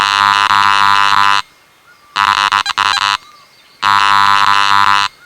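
Garrett AT Max metal detector giving its target tone over an iron nail: three loud, sustained electronic buzzing tones, the middle one broken into a stuttering burst, separated by short quiet gaps.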